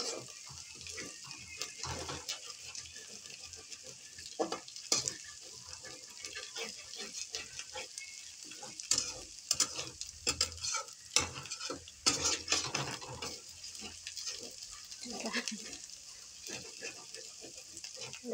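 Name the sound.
stirring and frying curry with spices in a pan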